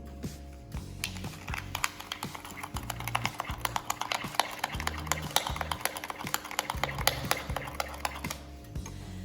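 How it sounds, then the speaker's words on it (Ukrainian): A spoon stirs egg, sugar and vanilla sugar in a bowl, with steady close scraping and clinking strokes that knock against the sides and carry on without a break. "Ретельно все розмішуємо."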